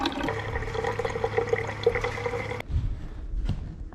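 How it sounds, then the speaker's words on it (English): Water trickling and dripping through a SimPure Y7 countertop filter, a soft steady flow with a faint tone that stops abruptly partway, leaving a few quiet drips and clicks. "it took about 5 to 10 minutes to filter the water."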